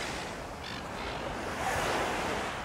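Surf washing onto a Mornington Peninsula beach, a steady broadband wash of waves with wind noise, swelling slightly louder toward the end with no voices.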